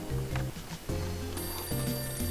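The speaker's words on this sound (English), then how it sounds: "The phone's ringing." A telephone rings in the Hotel Dusk: Room 215 video game, a repeating electronic trill in short bursts over layered game music, heard clearly without speech.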